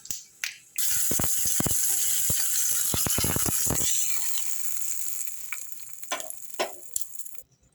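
Mustard seeds tempering in sesame oil for tomato chutney crackle and pop loudly in a dense burst of sharp snaps, which then thin to a gentle sizzle with a few scattered pops before stopping.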